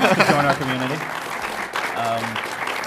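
Applause from a convention panel audience at a pin trading session, a steady wash of clapping with voices talking and calling over it.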